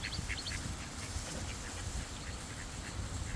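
Ducks quack repeatedly at an outdoor pond, a steady cluster of calls over constant background noise and rumble.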